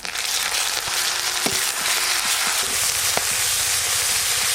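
Chopped onions frying in a pan as ginger-cumin paste goes in, a dense, steady sizzle with a few sharp pops and clinks of a utensil, close and loud with no talking.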